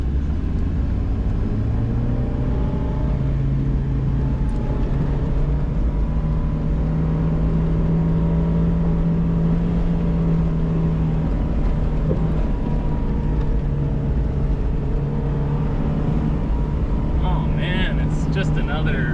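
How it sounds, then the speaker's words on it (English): A four-wheel drive vehicle climbs a hill in super low gear at the 2021 Utah Gambler 500 off-road event, its engine a steady, close, low drone throughout, with voices faintly under it. "Just another Friday afternoon with this real-time four-wheel drive, just scooting on up this hill."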